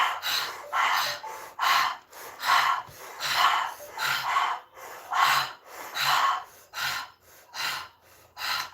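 Rapid, forceful breathing during a breathwork exercise for stress, with about fifteen sharp, evenly paced inhale and exhale bursts, close and fairly loud, with no talking.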